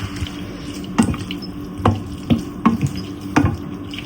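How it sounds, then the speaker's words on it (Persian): Meatballs stirred into fried cabbage in a pan, with several soft wet clacks and squelches at irregular intervals over a low steady background, no talk. "خوب مخلوط میکنیم."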